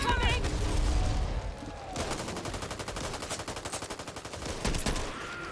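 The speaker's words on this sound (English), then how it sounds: "So here we'll just shoot as many zombies as we can." Gunfire rattles through a zombie horde fight in the video game Back 4 Blood, with rapid automatic bursts and a few heavier shots over game ambience and rumbling effects, the firing growing denser in the second half.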